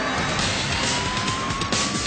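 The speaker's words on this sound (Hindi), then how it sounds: "पुलिस अधिकारी सायरन बजाता है पर ड्राइवर कार नहीं रोकता।" Police car siren wailing during a high-speed highway chase, with a speeding car weaving through traffic; a thin siren tone rides above a loud, steady roar of engine and road noise.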